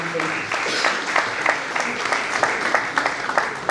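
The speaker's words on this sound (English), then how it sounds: "Please give them a round of applause for their incredible contribution to the conference." An audience at an AI conclave applauds the panelists with a steady wash of clapping, individual claps popping through as murmuring voices carry on underneath.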